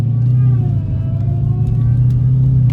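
Steady low rumble of a car engine while driving, a constant, loud drone with a faint rising whine layered above and occasional small clicks, no pauses.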